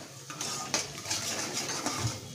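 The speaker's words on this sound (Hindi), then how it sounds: "अच्छे से पूरा इसको मिक्स कर लेते हैं जब तक ये चीनी हमारी इसके अंदर पिघल नहीं जाती" A spoon scrapes and clinks against a pan while a halwa mixture is stirred as sugar melts in, with soft repeated metallic taps and scrapes at close range.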